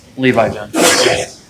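A single sharp sneeze bursts out during a public works and safety board meeting, right after a person speaks briefly.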